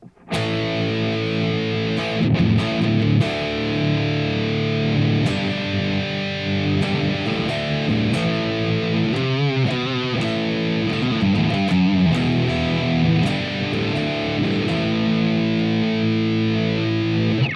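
A heavily distorted IYV Emerald electric guitar plays thick, sustained chords and riffs, loud and close, with no talking.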